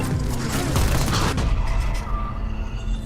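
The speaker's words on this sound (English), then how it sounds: "Yeah, because that's where it exploded." Grenade explosions in a console shooter game rumble as dense, booming blasts over a continuous roar of game noise, loud and sustained for the whole stretch.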